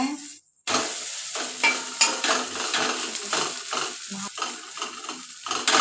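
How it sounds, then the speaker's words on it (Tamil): Beetroot dosa fries in oil on a pan with a steady close sizzle, broken by scraping and stirring clicks of a utensil against the pan, with no talking. "எண்ணெய் கொஞ்சம் மேலே ஊற்றிக்குங்க. நல்லா வேகட்டும்."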